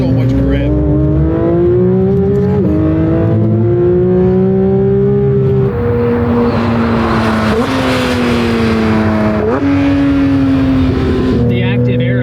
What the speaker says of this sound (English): this car is obnoxiously fast